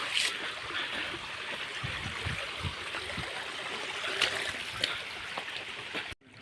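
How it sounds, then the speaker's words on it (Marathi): Steady broadband rush of water flowing over flat rock on a hilltop plateau runs throughout, with a few faint low thumps and clicks, ending abruptly. "इकडून कातळावरून पाणी येत आहे"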